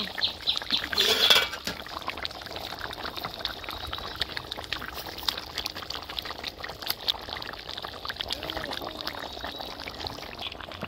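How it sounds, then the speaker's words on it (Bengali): Rohu fish pieces go into a pot of boiling water for a thin curry with drumstick stalks, giving a brief splash and pour near the start, followed by a steady soft bubbling simmer close by. "দেখেন বন্ধুরা জলটা কিরকম ফুটতে শুরু হয়েছে, এই পর্যায়ে এখন আমি মাছ দিব।"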